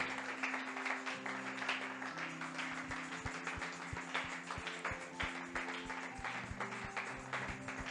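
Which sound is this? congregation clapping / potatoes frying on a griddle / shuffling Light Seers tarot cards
congregation clapping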